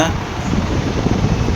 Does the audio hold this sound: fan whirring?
yes